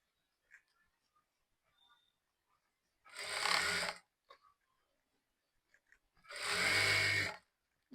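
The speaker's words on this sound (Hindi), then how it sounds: "इसके ऊपर एक टॉप स्टिच लगा देना है" Sewing machine running top stitching on a salwar, in two short whirring bursts of about a second each, separated by quiet handling noises.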